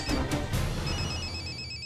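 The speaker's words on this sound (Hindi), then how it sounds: "सोमिल भाई का फोन है।" A telephone rings in short electronic trills, two quick bursts followed by a sustained tone, fairly quiet and without talk.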